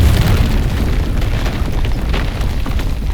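A sustained, loud rumbling blast as ruins are destroyed in the fantasy video game Avowed, a dense low boom and roar that fills the whole moment without letting up.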